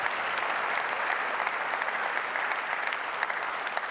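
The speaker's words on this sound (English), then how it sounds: "I'd really appreciate it if everyone could help me embarrass her with a round of applause" Steady, dense applause from an audience at an alumni awards gathering fills the whole four seconds at an even, sustained level, with no voices over it.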